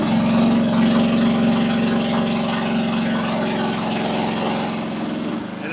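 A 1-ton Chinese mini digger's engine drones steadily under hydraulic load while the boom is raised against relief pressure, a loud, continuous low rumble that dips and changes near the end.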